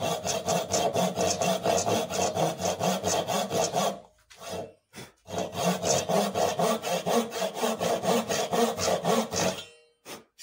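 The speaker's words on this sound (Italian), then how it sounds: "quindi partiamo e diamo il terzo taglio" Hand saw cutting wood in a woodworking school, making an angled third cut: steady rhythmic back-and-forth rasping strokes, close and loud, with a brief pause midway before sawing resumes.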